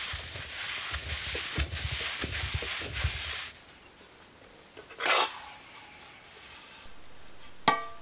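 Roasted dried red chillies crushed by hand on a grinding stone give a steady, near rasping rub for about three seconds, then a pause and a few sharper scrapes later.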